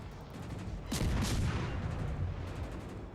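Naval gunfire from a warship in World of Warships Legends, a single loud boom with a rumbling tail that fades over a few seconds, standing alone with no talk.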